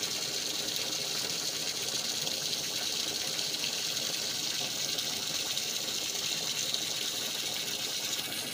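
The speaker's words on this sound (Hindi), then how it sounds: "पानी से भर गया है" A steady, broad rush of water fills a tank without a break, loud and continuous with no voices.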